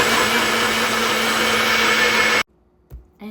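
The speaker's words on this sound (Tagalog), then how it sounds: "Tapos, i-blender ko na." An electric blender whirs steadily while blending homemade orange juice, a loud continuous motor drone with broadband whine that cuts off abruptly, followed by a quiet clunk or two.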